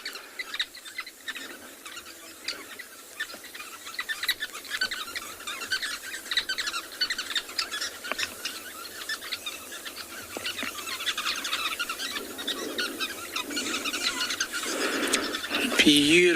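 Birds chirping around large sociable weaver nest structures on an afternoon safari in South Africa: a dense, continuous chorus of small high calls and chatter, steady and moderately loud, alone with no voices.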